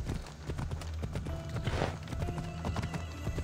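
A horse in Assassin's Creed Odyssey trots with steady, rhythmic clip-clop hoofbeats, and a brief neigh rises midway. The sound is fairly quiet and close.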